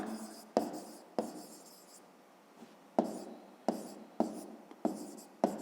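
Pen or pencil writing by hand on paper for a school maths exercise: close, soft scratching strokes in short bursts separated by sharp taps as the tip touches down, about eight strokes in all.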